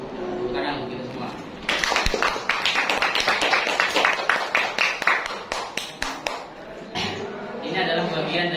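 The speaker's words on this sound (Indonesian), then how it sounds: "Tepuk tangan untuk kita semua" A class claps together in a classroom, a run of crisp, fairly regular claps that starts abruptly and tapers off after several seconds, with voices speaking before and after.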